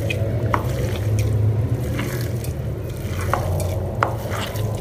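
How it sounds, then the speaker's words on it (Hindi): Minced meat for Peshawari chapli kabab is mixed by hand in a bowl, a steady soft squelching and churning with a few faint clicks, close and continuous, with no voices. "अब हम इस कीमे को अच्छे तरीके से मिक्स कर लेंगे"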